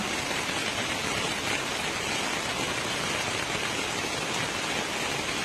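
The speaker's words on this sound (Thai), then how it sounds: "ฝนตกนี่" Steady, dense rain pours down without pause, a continuous hiss of drops hitting surfaces close by, with no voices.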